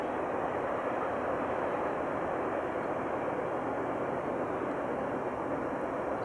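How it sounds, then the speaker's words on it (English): A continuous low rumble and roar of a large Norfolk Southern train, NS 23Q, passing at a steady distance, with no breaks or talking. "It's a good sized train."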